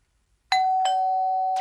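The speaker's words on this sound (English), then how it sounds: "It sounds like a doorbell." A cartoon two-tone electronic doorbell chime, ding then dong, clear and sustained, followed by the start of another tone.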